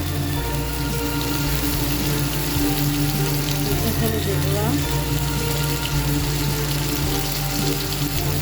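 Sylheti eggplant fries in hot oil in a home kitchen, a steady, dense sizzle like light rain that holds throughout, with a low background hum and faint kitchen noises.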